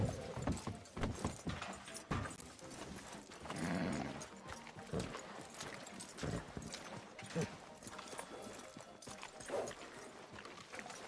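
Rhythmic hoof clip-clops of a horse in Red Dead Redemption 2 amid busy game sounds and music, with a horse whinny around the middle.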